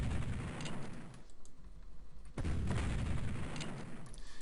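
Cannon fire from Civil War Generals 2 rings out as two heavy booms, each followed by a rumbling crackle that fades out, all at low overall level.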